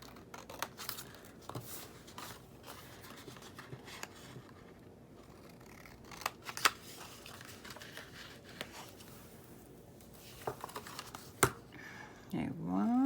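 Scissors snip diagonally through the small cardboard flaps of a little gift box, with quiet, scattered sharp cuts and crinkles close by against a faint background.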